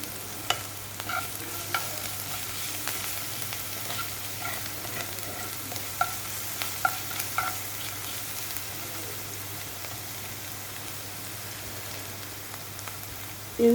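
Onion and sugar fry in a pan with a continuous close sizzle, broken by scattered scraping clicks from stirring, and no voices throughout.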